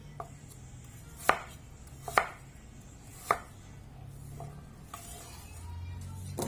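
Three sharp knife chops strike a cutting board at uneven intervals, dicing food into cubes, with lighter clicks and faint kitchen noise between them; no one speaks.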